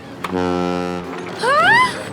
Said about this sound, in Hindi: हॉर्न, ये अपनी बोट का हॉर्न है।